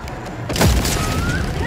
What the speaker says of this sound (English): It's deceptive how small that explosion actually is.